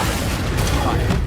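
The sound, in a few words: Confringo blast spell in video game Hogwarts Legacy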